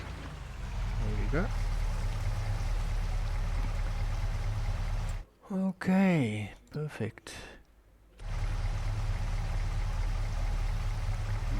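Water pours and streams steadily while being offloaded in a ranch-building video game, broken in the middle by a short stretch of speech before the flow resumes.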